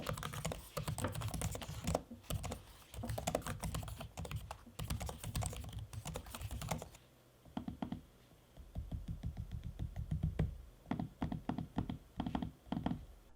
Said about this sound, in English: so you can listen to me typing and using the trackpad so you know how loud or quiet